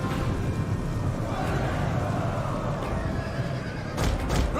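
In the video game Rome 2 Total War, a horse neighs amid a dense battlefield din of rumbling hooves and noise, with a sharper burst of sound near the end.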